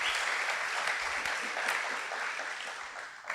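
An audience at a talk on resilience and creativity applauds, a dense, steady round of many hands clapping at close range that holds throughout.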